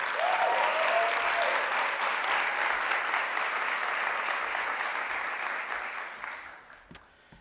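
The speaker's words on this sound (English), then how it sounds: "Let's give one more round of applause for Lorena Austin." Sustained applause from a large audience, steady and full, gradually tapering off near the end.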